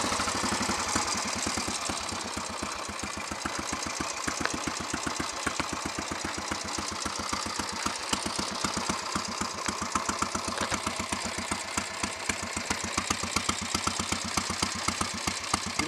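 A Royal Enfield Bullet 350 trials motorcycle idles in neutral with a slow, even single-cylinder thump, each beat distinct and close, steady throughout.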